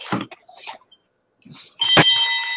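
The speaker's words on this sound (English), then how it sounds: "That's a school bell." An old brass school bell rings with a bright metallic clang near the end, sustained tonal ringing after softer handling noises, alone without talk.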